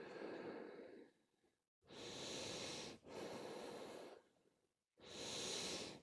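Deep breathing during a yoga session: slow, close, breathy inhales and exhales, about four long breaths separated by short pauses, soft and airy with no talk.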